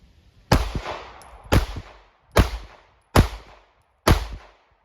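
Handgun fired one-handed with the left hand, five loud, sharp shots spaced roughly evenly about a second apart, each with a short echoing tail at an outdoor range, no talking.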